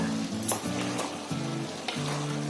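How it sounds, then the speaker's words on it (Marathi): Fenugreek leaf curry being stirred in a pan, with a close, steady sizzle broken by a few short spoon scrapes and knocks against the metal, no talking. "आता मी भाजी ढवळते"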